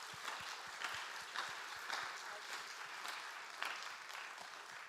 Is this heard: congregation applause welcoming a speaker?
yes